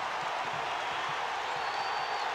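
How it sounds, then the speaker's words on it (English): Home basketball crowd in an arena in Ames, Iowa, at a college game against Kansas: a dense, sustained roar of cheering fans, steady and loud, with no pauses. "the crowd here in Ames on their feet and roaring for the defense now"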